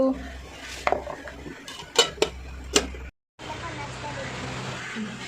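A lid set down over a pot of noodles, giving several sharp metallic clanks and clinks against a kitchen background hum, with someone talking, before a brief cut to silence.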